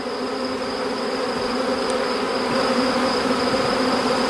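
Honeybees swarm around an open beehive during setup, producing a dense, continuous buzzing drone close by that stays steady and loud throughout.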